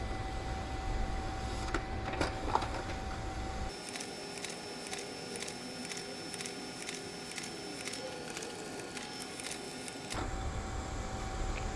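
A Canon LBP6000 laser printer feeds several pages one after another, giving a soft mechanical whir with a regular train of quick clicks and a faint high tone, quieter in the middle stretch, then the background hum returns.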